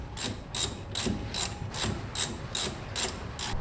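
A hand ratchet clicks steadily as it tightens 3/8 Allen bolts into the threaded holes of a brake caliper bracket on a 1959 Plymouth, giving eight evenly spaced bursts of sharp clicking, close and clear with no talk.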